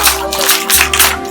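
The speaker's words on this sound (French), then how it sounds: "Bravo, on applaudit" Audience clapping at a 10th-anniversary celebration, a dense crackle of hands in two close bursts over a sustained musical tone and murmur.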